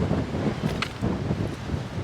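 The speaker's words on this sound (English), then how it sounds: "It's way too windy right now." Strong wind roars and buffets steadily on a mountain trail in Guadalupe Mountains National Park, a rough low rumble with gusts surging and easing throughout.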